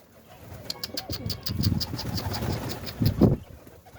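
Hungry pigeons arrive to be fed, cooing softly with bursts of flapping wings close by, the fluttering swelling near the end.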